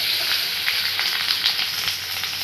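Boiled potatoes hitting hot oil in a pan for khichdi, a steady loud sizzle and frying hiss with small crackles, continuous throughout with no talking.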